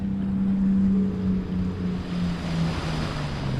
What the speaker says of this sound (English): that Coast Guard boat comes flying through